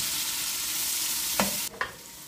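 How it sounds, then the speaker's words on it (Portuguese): Large onion frying in a thick pot after bacon and calabresa sausage, a steady close sizzle with two brief stirring scrapes near the end. "eu vou colocar uma cebola grande. Vamos dar uma fritada nela aqui"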